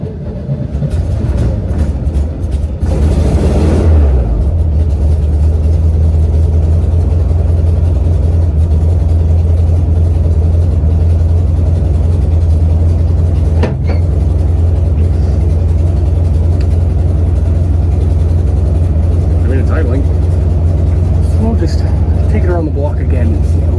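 A 1969 VW Bus engine, just after carburetor adjustments, idles loudly and close for a long stretch after a brief rev near the start, its low steady drone continuous and slightly uneven.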